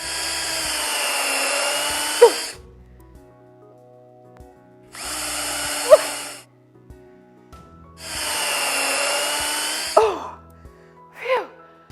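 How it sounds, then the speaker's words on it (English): A heavy power drill boring holes into a wall in three long loud bursts of several seconds each, separated by pauses, with a breathy exhale at the end of each burst and a final short whir. "we're gonna get our drill. It's quite heavy, and we're gonna drill into the wall"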